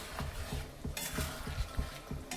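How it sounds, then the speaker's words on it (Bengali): Tengra fish masala being stir-fried in a pan, with a soft sizzle under a regular rhythm of spatula scrapes and stirring knocks against the pan. "এটাকে ভালো করে কষে নেব"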